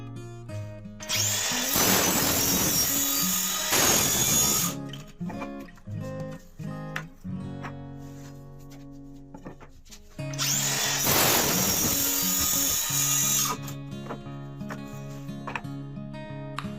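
A circular saw crosscuts wood on a jig fitted with a stopper for repeated equal lengths; two loud, separate cuts spin up and whine down, with quieter handling knocks between them.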